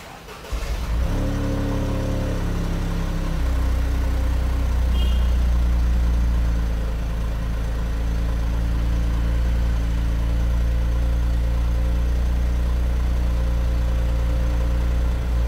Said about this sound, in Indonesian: sekarang kita dengerin pada saat start, cold start ya